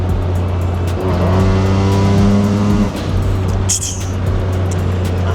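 Perodua Bezza 1.0L turbocharged automatic engine revving under load, a loud droning hum that climbs in pitch and then drops back as it shifts, with a brief hiss near the end.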